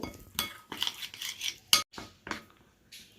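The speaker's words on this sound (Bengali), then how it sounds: "প্রথমে আগে এটাকে আমি একটু ভালো করে চামচ দিয়ে নেড়ে চেড়ে মিশিয়ে নেব" A metal spoon scrapes and clinks against a bowl while stirring spice paste mixed with mustard oil, in short irregular bursts of close, fairly quiet tapping and scraping with pauses between strokes.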